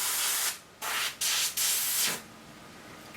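An airbrush sprays a blue-tinted varnish over a statue's head and hands in four or five steady hissing bursts, each about half a second long with brief pauses between, close and fairly loud.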